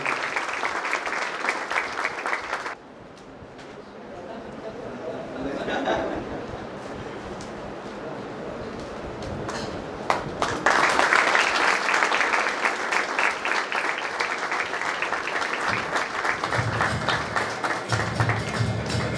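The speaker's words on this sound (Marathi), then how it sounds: "एकदा जोरदार टाळ्या झाल्या पाहिजे" Loud applause from an audience at a college felicitation ceremony honouring a student's parents, steady clapping that dips briefly, then swells again with some chatter and laughter mixed in.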